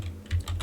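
A short burst of a few quick keystrokes on a computer keyboard, close and clear, typed while creating a design in Canva.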